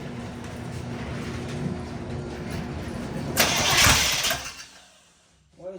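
A 454 V8 in a Chevrolet squarebody truck cranks and fires up with a loud rising roar, then settles toward a rougher idle before the engine note dips and picks up again at the end.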